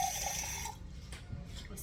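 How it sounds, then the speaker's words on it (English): Water poured into a pot of rice on the stove, a brief close splashing trickle that fades to quiet within a second. "I'm only going to add this much water."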